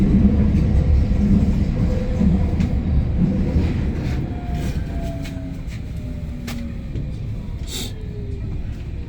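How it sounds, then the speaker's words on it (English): A train at a German railway station rumbles nearby, with heavy low-end clatter that slowly eases while a faint tone glides down in pitch. "And this is the train."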